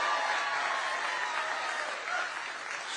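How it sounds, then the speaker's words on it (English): A crowd at a political rally in Pennsylvania breaks into dense, steady applause, loud and continuous throughout with no speech over it. "I think we could give her a round of applause right now just to start."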